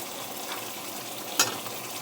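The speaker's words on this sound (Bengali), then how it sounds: "এবার ভালো করে নাড়িয়ে নেব আলুটা।" Potatoes sizzle in hot oil with ginger, chili and cumin paste for aloo dum, a steady close crackle broken by one sharp scrape of the stirring spoon, with no talking.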